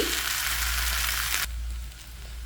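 Okra (lady's finger) frying in a pan, a steady broad sizzle that cuts sharply quieter about halfway through, then continues as a softer frying hiss with no one talking.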